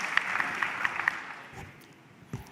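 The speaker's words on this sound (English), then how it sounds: "I want to give a round of applause to the speakers of the first sessions." Audience applause for conference speakers in a big hall at the BioSpace25 event. It is fairly faint and scattered, dies away after about a second and a half, and leaves a quiet room with a few stray claps.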